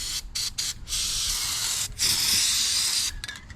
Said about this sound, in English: I'm going to spray some white lube in this area where this thing slides.